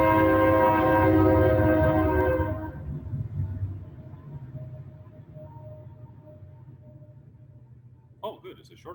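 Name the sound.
loud passing train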